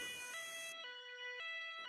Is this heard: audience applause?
no